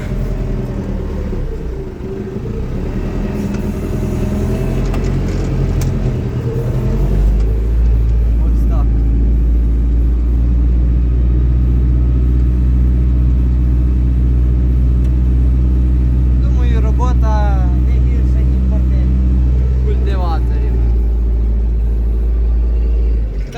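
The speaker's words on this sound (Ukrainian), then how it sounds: "зараз я спробую вам показати, що робить культиватор" A KPS 4.2 cultivator pulled through a field being prepared for sunflower, its tractor engine rumbling loud and steady with a deep drone, someone talking briefly over it.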